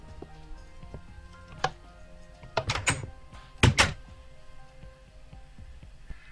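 Wooden doors swinging open in Minecraft after a player runs and jumps through a tripwire, heard as two brief clustered clacks in quick succession, near and fairly loud over a quiet background.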